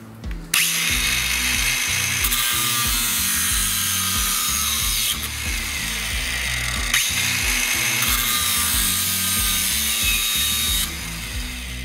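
A Deko DKAG20-125 cordless angle grinder cuts through a galvanized M6 bolt, a loud, sustained high-pitched metallic screech over the motor's whine, broken by a few short pauses between cuts.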